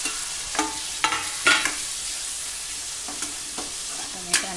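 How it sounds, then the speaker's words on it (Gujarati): Chopped tomatoes land on onions frying in chili-spiced oil for a tomato tikhari, and the pan keeps up a bright steady sizzle broken by several spoon scrapes and clinks, heard up close and alone. "આપણી ડુંગળી ચડી ગઈ છે, હવે ટમેટા નાખશું।"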